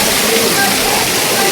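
Water pouring from the many spouts at Muktinath Temple in freezing cold, a loud, dense, unbroken splashing rush close by as people walk beneath the streams.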